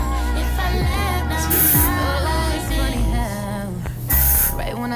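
Two short bursts of aerosol hairspray hiss close by on hair being styled into waves, layered over background music.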